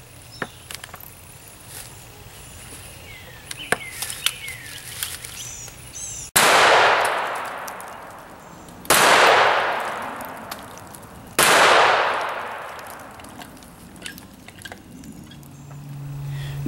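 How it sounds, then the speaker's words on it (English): A Smith & Wesson revolver chambered in .44 Magnum fires three loud, sharp shots a couple of seconds apart, each ringing out in a long echoing decay after a quieter stretch of faint background noise. "we'll fire the 44 Magnum through this Smith & Wesson 44 Magnum"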